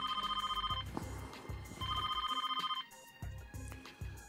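Telephone bell ringing in repeated trilling bursts with short pauses between them, close and clear against a quiet background.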